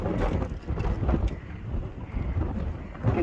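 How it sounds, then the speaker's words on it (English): Strong wind in a winter snowstorm blusters steadily across the microphone with gusty rumbling and rushing, loud and continuous, with no voices. "It is snowing and very, very windy."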